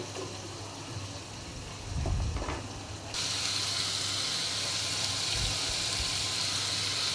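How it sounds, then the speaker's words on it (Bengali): Onion and garlic paste frying in oil for a paneer curry, a steady broadband sizzle that grows louder and brighter midway, with a few low bumps from stirring; no voices. "পেঁয়াজ আর রসুনটাকে তেলের সাথে ভালো করে মিশিয়ে একটু নাড়াচাড়া করে"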